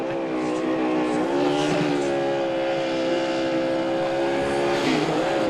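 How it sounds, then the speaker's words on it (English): Austin Dillon's stock car does burnouts after winning the 2018 Daytona 500, its engine roaring and revving loud and steady, with pitch sweeps and tire squeal over a constant crowd-like wash. "He does some nice burnouts"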